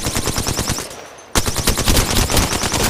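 Rapid, loud, continuous machine-gun fire in the video game Apex Legends, with a brief pause partway through before the dense burst of shots resumes.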